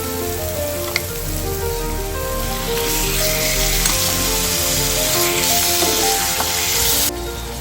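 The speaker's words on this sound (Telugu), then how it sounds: "ఒక టూ మినిట్స్ మటన్ని ఫ్రై అవ్వనిద్దాం" Mutton sizzles loudly in masala in a pan for a mango mutton curry, a dense, continuous frying hiss with light stirring, close and steady throughout.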